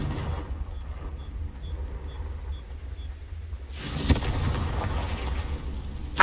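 Confringo fire spell in Hogwarts Legacy, a faint chirping ambience giving way to a sudden booming blast with a sharp crack, followed by a rumbling roar that sustains to the end.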